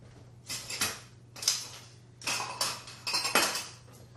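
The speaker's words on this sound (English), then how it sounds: "Let me get these spoons out of here." Metal spoons and a spatula clatter and clink against dishes in a home kitchen, several separate bursts of handling at close range, with no talking.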